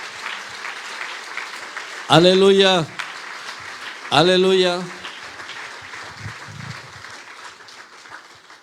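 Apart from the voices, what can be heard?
church congregation applause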